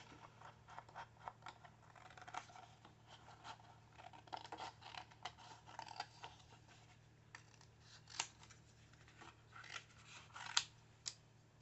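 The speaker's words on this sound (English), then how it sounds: "we're going to fussy cut it" Scissors fussy-cutting a paper daisy embellishment made from scraps, heard as a steady run of soft close snips and paper rustles with no talking.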